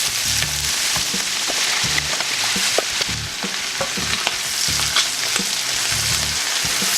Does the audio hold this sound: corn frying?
yes